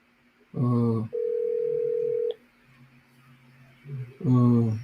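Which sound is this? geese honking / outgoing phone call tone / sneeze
outgoing phone call tone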